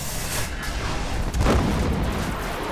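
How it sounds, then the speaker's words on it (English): A grenade explosion in the video game Destiny, a deep booming blast rising mid-clip over a loud, rumbling battle backdrop, no talk. "Cool grenade type there"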